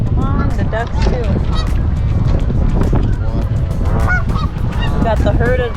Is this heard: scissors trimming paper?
no